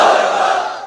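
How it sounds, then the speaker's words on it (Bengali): A large crowd shouts together in a single loud, sustained roar, like a unison chant of "Allahu Akbar" at a religious gathering, holding strong and then fading slightly. "সবাই মিলে তিনটা পড়েন লিল্লাহি তাকবীর"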